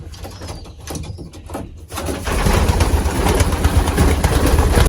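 Racing pigeons coo and flutter in breeding cages, with soft calls at first, then a loud, steady rush of wings and movement that fills the rest of the space.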